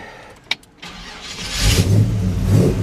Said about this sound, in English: Go ahead and fire this one up for you.